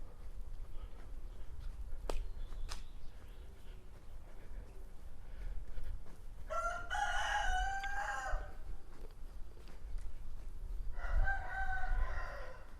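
A rooster crows twice, fairly loud but a little distant, over a low outdoor rumble, with a quiet gap between the two calls.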